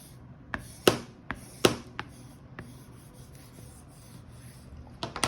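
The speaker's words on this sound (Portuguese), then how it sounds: "Vou só tirar aqui o excesso de fita dupla face para não atrapalhar o nosso acabamento." Excess double-sided tape is peeled and rubbed off a handmade photo album board, giving a few sharp scraping and tapping transients over a quiet background with no talking.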